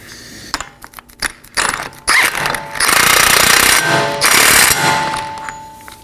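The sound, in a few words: power tool snugging down a 32mm CV axle nut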